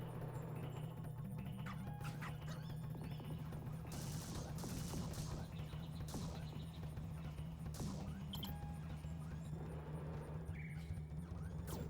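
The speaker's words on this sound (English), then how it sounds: "You'll notice that the machine gun is really good for bouncing gems off the walls" Gunfire from the machine gun in the Nintendo 64 game Jet Force Gemini, a dense run of rapid shots over a steady low game drone and music, with sharp bursts recurring through the stretch.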